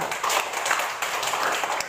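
A class of schoolchildren clapping their hands together in a classroom, a short burst of brisk, fairly close claps lasting under two seconds.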